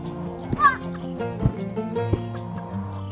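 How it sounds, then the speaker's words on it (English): A backyard chicken clucks close by in a grassy garden, giving a few short rhythmic clucks and a higher squawk, with faint voices and household sounds in the background. "Is my chicken really stuck in there?"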